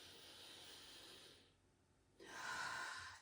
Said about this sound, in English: And you're hearing breath from me.